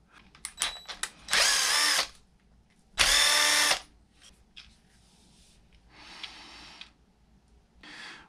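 Power drill spins out small 2mm bolts from a Traxxas E-Revo differential in several whirring bursts, two loud and close, the later ones quieter, with small clicks and handling noises between.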